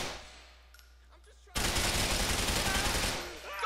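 Automatic gunfire erupts in the video game Grand Theft Auto 4: a loud sustained burst of rapid shots follows a quiet stretch and lasts around a second and a half before tapering.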